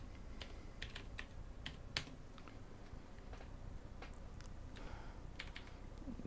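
Keys clack on a computer keyboard during programming, quiet and irregular with scattered sharp taps and short bursts, close by and with no talk.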